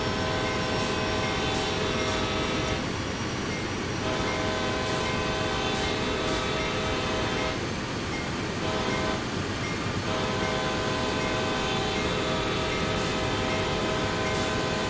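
A CSX diesel locomotive spools up on the Sand Patch Grade in Train Sim World 2, a loud, unbroken engine roar with steady droning harmonics that swells and shifts in texture throughout, with no voices.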